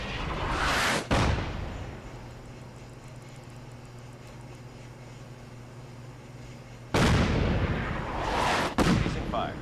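Artillery pieces firing in the Fallout video game, two heavy booming blasts with rumbling tails, one near the start and another about six seconds later, separated by a lower steady drone.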